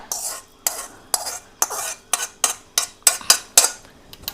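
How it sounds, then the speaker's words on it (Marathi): Lukewarm oil for a homemade knee-pain remedy is worked through a strainer, making crisp, regular scraping strokes about twice a second that quicken toward the end, with no talk over them. "तर आता आपल्याला आहे ना हे तेल एका गाळणीत गाळून घ्यायचंय"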